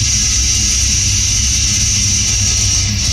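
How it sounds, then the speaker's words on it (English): A chainsaw cuts through steel in a recording studio, giving a continuous harsh, high-pitched grinding shriek over a low engine rumble, loud and unbroken throughout. "Venom actually took a chainsaw into the studio along with some steel and physically recorded themselves chainsawing through the steel."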